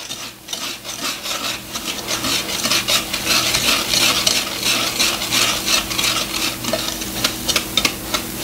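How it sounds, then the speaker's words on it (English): Four cups of sugar and two-thirds cup of cocoa mixed together in a bowl, a steady, close, gritty scraping and rubbing of the spoon through the dry granules that continues without pause and without speech. "We're going to mix our sugar and cocoa together."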